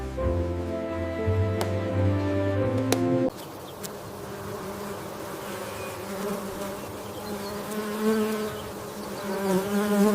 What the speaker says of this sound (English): Bees leave the hive in search of nectar-rich flowers.